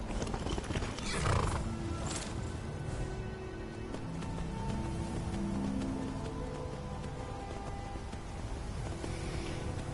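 A horse whinnies loudly, then hooves clip-clop steadily beneath a droning hum, in the video game Skyrim.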